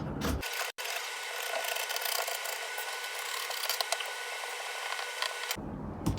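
Fabric is being cut out for a dress sleeve with a half-inch sewing allowance, giving a close, steady rasping snip and rustle that runs almost unbroken after a brief pause near the start, with no talking.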